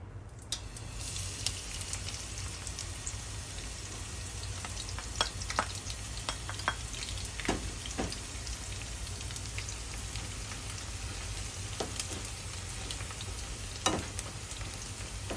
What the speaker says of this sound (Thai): จะเจียวกระเทียมก่อนเนาะ